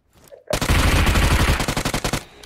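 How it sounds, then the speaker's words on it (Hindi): Loud, close automatic gunfire from the video game PUBG Mobile breaks out in a sudden sustained burst of rapid shots, ending in a string of separate cracks. "वाह राजू, दो गोलियां और काम तमाम"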